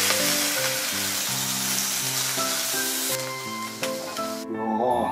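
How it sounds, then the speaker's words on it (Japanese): Pork chashu, salt-koji cured and low-temperature cooked, sears loudly in a frying pan with scallop oil, a steady close sizzle running through the whole clip under background music. "そしたら先ほどのホタテ油を少し入れてお肉を焼いていきます"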